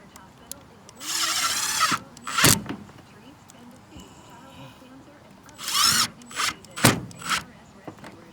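A power drill drives screws into a metal roof on a mobile home in short bursts of whirring, with clanks and knocks on the roofing between runs and someone talking intermittently over the work.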